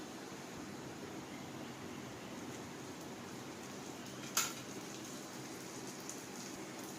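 A stuffed paratha, folded over its filling, fries in oil in a pan, giving a steady, even sizzle and crackle throughout, with one brief sharper pop partway through.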